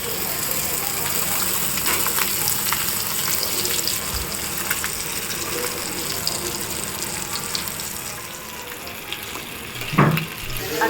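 Stuffed pomfret fish coated in rava, frying in a pan with a steady broadband hiss and crackle throughout, fairly loud and close, with a brief clatter near the end.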